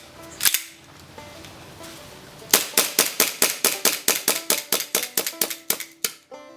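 An airsoft gas gun with a room-temperature magazine fires one early shot, then after a pause a rapid string of about fifteen sharp snapping shots that gradually weaken, close and clear with no talk.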